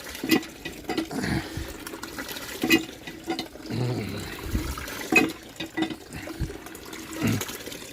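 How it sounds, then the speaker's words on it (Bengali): Water coming out of a newly installed tube well, close by in uneven surges and splashes that rise and fall in irregular pulses, with no talk. "জল বেরোচ্ছে সুন্দর জল বেরোচ্ছে"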